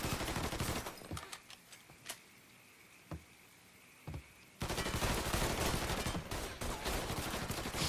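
Gunfire in the video game Mafia 3: dense bursts of automatic shots, then a lull with a few isolated sharp cracks, then another sustained loud volley.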